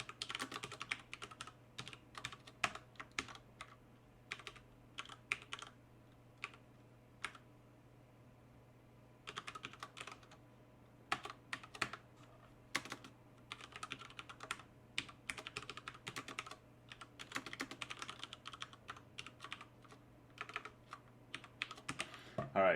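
Quiet, irregular computer keyboard typing while code is written, with bursts of rapid key clicks separated by short pauses, close and soft over a low steady hum.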